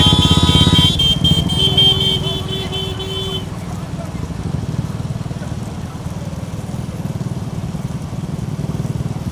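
A motorcycle engine hums steadily with a rough, throbbing idle. A horn-like tone sounds at the start, and faint chatter sits in the background.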